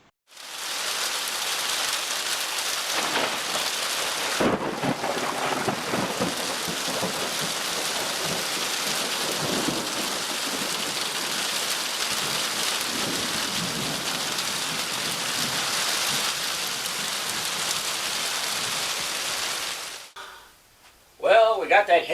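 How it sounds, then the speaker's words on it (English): Heavy rain pours steadily for about twenty seconds, a dense continuous hiss with deeper rumbling thunder rolling underneath before it abruptly cuts off near the end. "Well, we got that heavy rain,"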